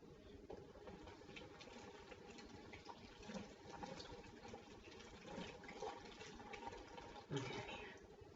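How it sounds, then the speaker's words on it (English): Oregano sprigs rinsed under a running kitchen tap, a steady broadband rush of water that continues throughout with small splashing shifts and a brief louder splash near the end, no talking. "let's rinse it off first just in case"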